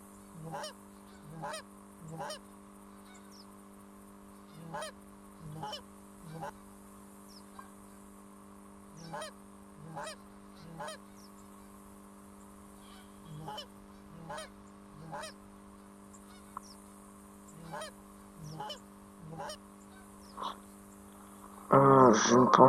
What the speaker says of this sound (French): revoilà une grosse volée d'oies